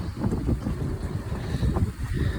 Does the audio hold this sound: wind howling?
yes